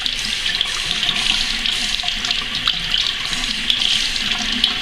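Tap water runs steadily into a sink over a beauty blender makeup sponge, a continuous close hiss and splash with no voices.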